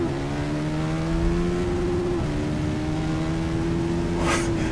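A KTM 1190 RC8 R sport motorcycle accelerating hard on a race circuit, a loud sustained high-revving engine drone with a brief gear-change dip midway, heard from on board without any talking.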